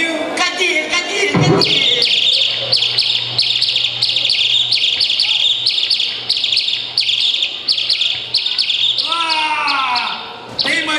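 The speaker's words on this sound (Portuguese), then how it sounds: "Passarinho? Cadê?" Small bird chirping and singing in repeated bright, rapid tweets close by, steady through the clip over a low hum, with a faint voice near the start.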